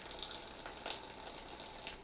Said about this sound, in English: My kitchen adds filtered water to it.